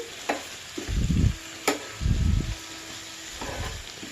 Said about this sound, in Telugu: రెండు నిమిషాల సేపు ఈ విధంగా వేగనివ్వాలి